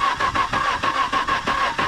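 A Nissan GTR engine cranks and tries to start, a rapid, steady pulsing churn of the starter and engine, close and loud with no talk over it.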